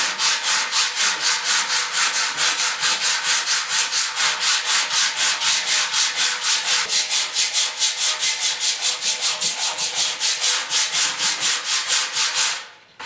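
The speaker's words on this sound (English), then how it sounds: "on the last one, I'll sand it with 80 grit" Body filler on a dented fuel tank from a 1974 Yamaha RS 100 motorcycle is hand sanded with coarse grit paper in fast, even back-and-forth strokes, loud and close, ending abruptly.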